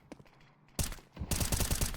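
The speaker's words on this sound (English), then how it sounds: "Gets wrecked with the flashbang, will be completely blinding him." A flashbang grenade goes off in a Counter-Strike 2 match, a sharp burst followed by a dense, loud crackling blast lasting most of a second, with quieter game sounds before it.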